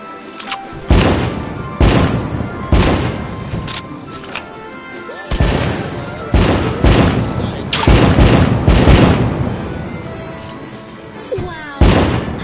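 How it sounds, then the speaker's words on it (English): Fireworks bursting one after another, with loud booms and crackles at irregular intervals, some overlapping, and voices heard between the blasts. "Light up those fireworks, sit back and enjoy the show."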